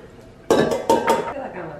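A utensil scrapes and clinks against a mixing bowl as butter and sugar are mixed, with a few loud, close knocks followed by softer scraping.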